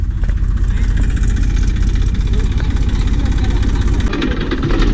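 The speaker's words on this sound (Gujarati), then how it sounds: "અહીંયા ટ્રેક્ટર આવી ગયું" A tractor engine idles nearby on a farm road, a steady low chugging rumble with a throbbing rhythm, loud and close, running continuously throughout.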